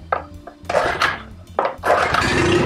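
A Mercury 9.9 hp outboard motor is pulled over and sputters, with short bursts of ragged firing, a pause, then a longer rough run that catches briefly.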